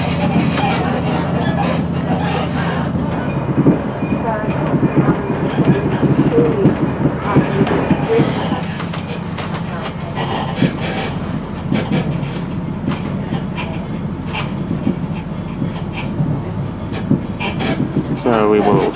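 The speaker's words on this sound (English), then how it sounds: "We're on Endeavour N8, which is operating WN14 Bathurst Bullet to Sydney." Endeavour N8 passenger train running as the Bathurst Bullet on the western line toward Lithgow, heard from aboard as a steady rumble with rattles and rhythmic clacks, with occasional voices in the background.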